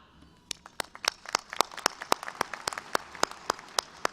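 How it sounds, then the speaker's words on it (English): At a university spring commencement, a few audience members clap for graduates in sparse, irregular claps that ring out sharply and separately, as if from only a handful of hands nearby. "Friends and family members, you are encouraged to clap"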